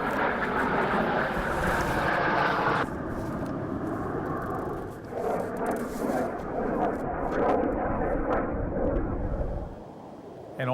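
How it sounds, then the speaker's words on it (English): Canadian Forces Snowbirds jets fly over New Brunswick and Nova Scotia with a loud, sustained roar of jet engines that rumbles and shifts in intensity for about ten seconds before easing off. "The Canadian Forces snowbirds flew over parts of New Brunswick and Nova Scotia today"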